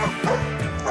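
A dog gives a short, loud bark and whimpering yips, close up and with no other sounds, lasting about a second.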